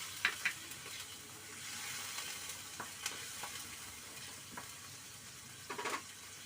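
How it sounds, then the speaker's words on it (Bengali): Onion masala for a doi rui fish curry fries quietly in a pan, with a soft, constant sizzle and occasional sharp scrapes and clicks of stirring. "এর জন্য আমি এটাকে তেল ছাড়া অপেক্ষা পর্যন্ত নাড়িয়ে যাব, ভেজে যাব তোমার এই মশলাটা।"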